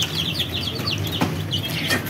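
Chicks and small caged birds in a home mini zoo cluck and chirp steadily after being given grain, with soft peeping calls and a brief louder squawk near the middle over a constant background.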